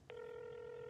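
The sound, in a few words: telephone dialing or ringing sound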